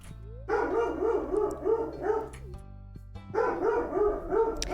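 A dog in the video game Stardew Valley barks loudly and repeatedly up close, two bursts of rapid barking separated by a short pause, with no talking.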